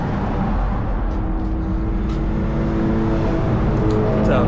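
Steady roar of traffic on a busy road in Clifton, Arizona, with vehicles passing close by continuously and loudly, one car's engine rising toward the end, and no talk over it.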